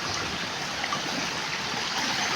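Water flows steadily in a broad, even rush with no breaks, moderately loud and close, with no voices over it.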